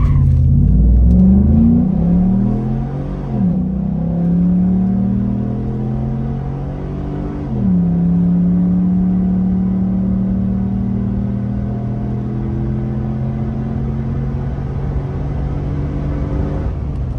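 A 2016 Ford F-150 pickup fitted with an SCT Livewire TS+ tuner, run in Sport mode on a quarter-mile test, accelerates hard: a loud engine roar rises through the gears with clear shift dips, with no talking.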